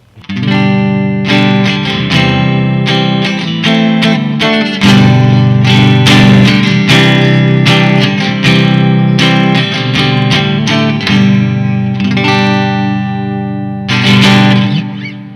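Loud overdriven electric guitar plays chords and picked notes through a TC Electronic Hall of Fame reverb pedal, with a spacious, lingering hall reverb tail, continuous for the whole stretch with no voices.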